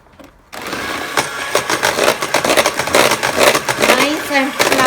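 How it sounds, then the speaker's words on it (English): An electric mixer whirs steadily through lemon pound cake batter, running loud and close with a fluctuating buzzing motor tone after a brief quiet start. "Let's mix it nicely."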